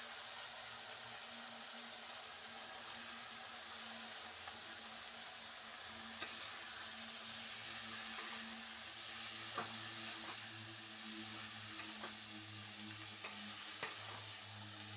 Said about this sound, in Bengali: শাকটাকে একটু ভেজে তারপর আমি এখানে জল দিয়ে দেবো।